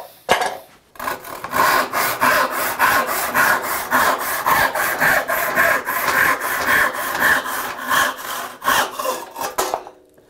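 Hand crosscut saw making a test cut through wood, with a fast, steady rhythm of rasping strokes that runs continuously for several seconds, loud and close, ending abruptly.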